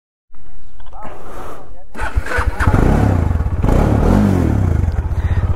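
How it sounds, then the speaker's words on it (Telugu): A Bajaj Dominar 400 motorcycle with a dead battery cranks and sputters repeatedly without catching, loud and close, with rattling mechanical clatter throughout. "4 to 5 times ట్రై చేస్తే అసలు బండే స్టార్ట్ కాలేదు"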